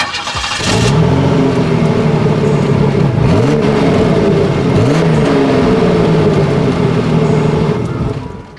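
A 1990 ASC McLaren Turbo Grand Prix's 3.1-liter turbocharged V6 revs hard several times, its deep exhaust note rising and falling in loud, close bursts over a steady throaty rumble.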